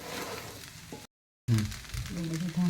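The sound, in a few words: stirring batata poha sizzling in a pan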